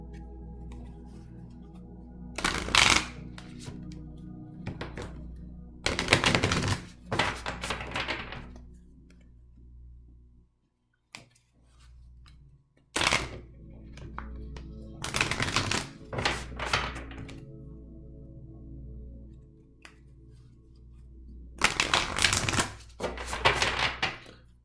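Tarot cards being shuffled give off repeated bursts of papery riffling and tapping, loud and close, with quieter gaps between the bursts.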